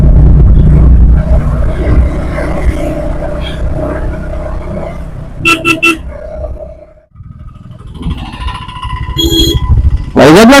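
Motorcycle engine roaring loudly while riding through city traffic in Vizag, steady at first, then dipping and picking up again, with brief horn-like bursts from nearby traffic.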